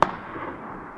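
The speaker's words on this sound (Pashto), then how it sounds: "دا پکې د کم ټوپک ډز دی، دغه ډز پکې د کم ټوپک وشو" A single sharp report from a small gun, one loud crack right at the start that fades into a short tail of reverberation, heard alone.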